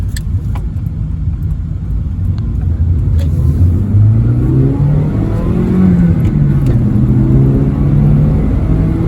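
A car with a recently rebuilt transmission runs steadily with a low engine rumble, revving gently up and down as it drives along, close and fairly loud.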